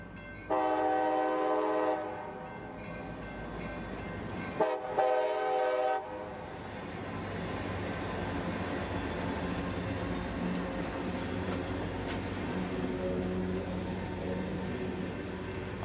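A CSX Q541 freight train passes on the main line, sounding loud horn blasts in two bursts before its steady rolling rumble carries on at moderate distance.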